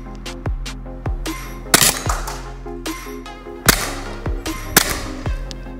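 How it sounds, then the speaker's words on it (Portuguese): A KWC 24/7 blowback CO2 air pistol fires at a glass bottle set 10 metres away: several sharp, loud cracking shots at irregular intervals, each one followed by a short ringing decay, with no talk. "Disparo agora em uma garrafa de vidro a 10 metros"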